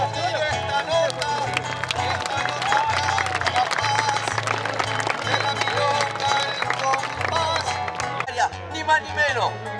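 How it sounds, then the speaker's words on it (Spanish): A rodeo crowd applauds at a bronc-riding event, the clapping spread across the stands beneath a loud announcer's voice, with a low droning hum underneath the whole stretch. "¡Ay, qué aplaudido esta nota!"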